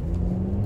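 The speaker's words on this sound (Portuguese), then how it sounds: "faz o motor roncar e na prática anda pouco" A 2016 Jeep Renegade engine revving under full throttle, a steady close low drone held through a very short moment with no talk over it.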